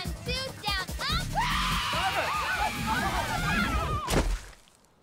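A woman screams during a replayed clip, a sharp high cry that rises and wavers over a few seconds, mixed with other voices and busy background noise, then cuts off abruptly.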